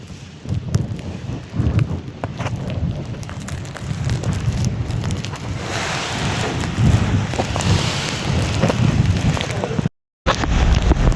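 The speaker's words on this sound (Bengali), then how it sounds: "আর দেখতেই পাচ্ছেন প্রচণ্ড বৃষ্টি।" Heavy rain pounds steadily on a Barisal-bound passenger launch caught in a violent storm on the river, a dense, loud wash of drops with gusting wind that drops out briefly near the end.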